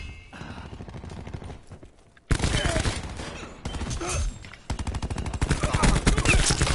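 Rapid gunfire in the video game Call of Duty: Black Ops 4, including shotgun blasts, heard as dense, loud bursts of shots that grow stronger partway through, with game noise underneath.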